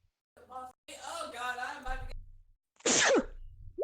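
A single loud, sharp sneeze bursts out near the end, right after a stretch of voiced talk, during a tabletop fantasy role-playing game session.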